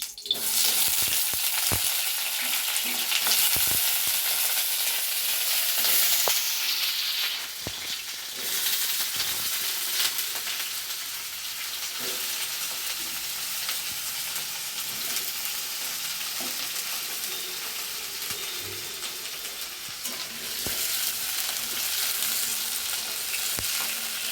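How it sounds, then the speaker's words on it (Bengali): Potatoes frying in hot oil until reddish, with a steady close sizzle and occasional stirring scrapes that run the whole time, louder and hissier at the start, then settling to a constant crackle. "তেল দিচ্ছি, আলুগুলো একটু লাল লাল করে ভেজে নিই।"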